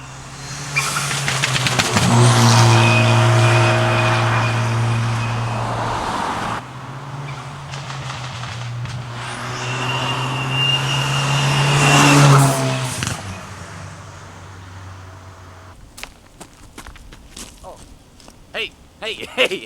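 A hybrid-turbo Ford Fiesta ST on a backroad accelerates hard in two loud, rising engine pulls with turbo whine through the gears, a lift-off between them, then quieter idling and clicks at the end; voices talk over the engine.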